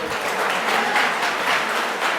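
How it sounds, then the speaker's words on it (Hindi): An audience applauds steadily at a 15-year company celebration, a dense, continuous wash of clapping with no break. "उन लोगों को लिए जोरदार ताली होनी चाहिए"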